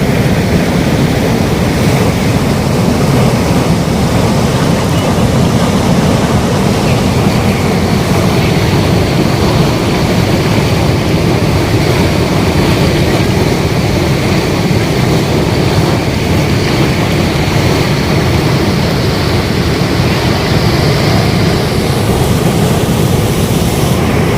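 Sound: Cameron Falls waterfall in Canada

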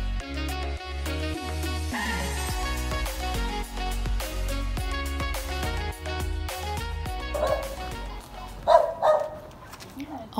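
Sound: dogs barking on the Portuguese Camino

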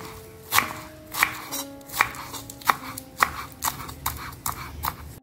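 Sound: chopping vegetables and herbs with knife for sour soup

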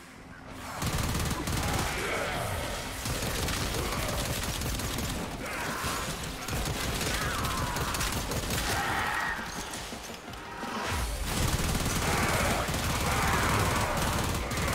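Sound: gun firing in the video game Warframe

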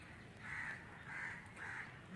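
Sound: crow cawing at Patna Zoo

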